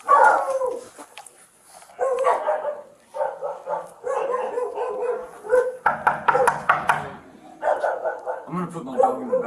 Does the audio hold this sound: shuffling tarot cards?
no